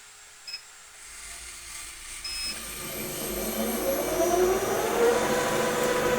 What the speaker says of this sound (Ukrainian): ось як запускається станок